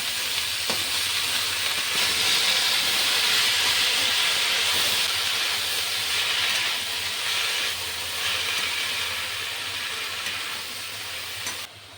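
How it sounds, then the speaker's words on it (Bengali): Chopped water spinach goes into a hot pan and is stir-fried, giving a loud, steady hiss of steam and sizzling that holds for about twelve seconds and fades slightly near the end. There is no talking. "এবার আমি যে শাকগুলো কুচিয়ে রেখেছিলাম সেগুলো দিয়ে দিচ্ছি মিক্স করে দিচ্ছি"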